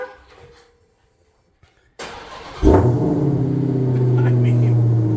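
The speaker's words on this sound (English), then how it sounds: "let's start up that vehicle, and let's just see what you hear out of that vehicle" A Ford Mustang car engine cranks over and fires up after a quiet pause, then settles into a loud, deep rumbling exhaust idle, close and sustained to the end.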